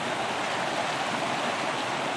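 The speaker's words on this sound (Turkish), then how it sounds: "Bizim böyle bu benim minik şelalem." A small waterfall fed by water released from a dam, a steady, dense rushing roar that stays even throughout without pauses or voices.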